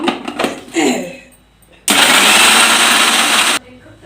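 A mixer grinder whirs loudly for about two seconds as it grinds dried prawn shells into a spicy powder, starting and stopping abruptly after a stretch of talk and handling noises.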